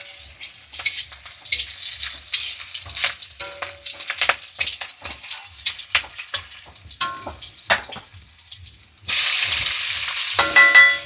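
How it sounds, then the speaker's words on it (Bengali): Green chilies crackling in hot oil, with sharp irregular pops and spits scattered over a quiet background, followed by a sudden louder, continuous sizzle toward the end. "লঙ্কা দিয়ে দিয়েছি প্রথম। এবার একটা একটা করে ফাটবে।"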